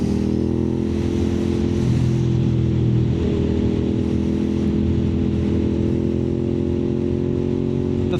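A fourth-generation Suzuki SV650 motorcycle cruises with a smooth, continuous engine note close by, shifting slightly with gentle throttle changes over a steady wind roar.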